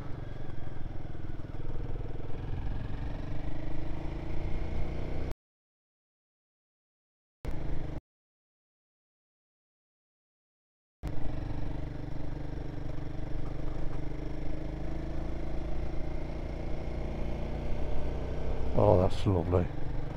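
Royal Enfield Guerrilla 450 motorcycle pulling up a hill, its engine droning steadily with rising and falling revs through gear changes, broken by two stretches of silence and a brief sharp clatter near the end.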